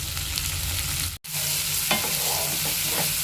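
A large chopped onion and split green chillies fry in a pan for a rohu fish curry, giving a close, steady sizzle with stirring scrapes, briefly cut off partway through.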